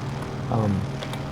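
A simulated propeller airplane cruises low over Lake Arenal, Costa Rica, in Microsoft Flight Simulator: a steady, close engine drone that swells briefly louder midway, then settles back to an even hum.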